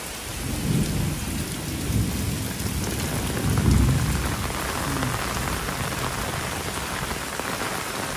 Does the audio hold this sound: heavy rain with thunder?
yes